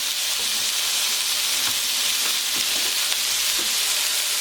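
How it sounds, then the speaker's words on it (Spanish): Prawns and langoustines fry in a little oil in a cazuela, the casserole later used for rice, giving a steady close sizzle with faint crackling throughout. "Empezamos sofriendo los gambones y cigalas en la cazuela donde haremos el arroz con un poco de aceite"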